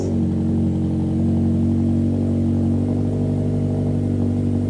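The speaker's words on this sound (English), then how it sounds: "It really has that Subaru Rumble." A Subaru Impreza Sport with its exhaust muffler deleted runs just after starting, a loud, close, low rumbling idle with a steady throb and slight swell in level, no talk over it.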